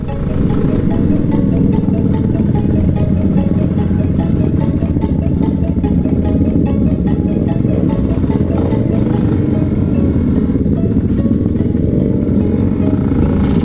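A motorcycle engine runs steadily and loudly up close, a constant rumbling drone with some clatter, holding the same level throughout.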